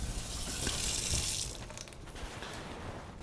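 Water rushes steadily through RV water lines as they are cleared and pressurized, a hissing flow easing off after a second or so into a quieter, gurgling trickle. No one speaks.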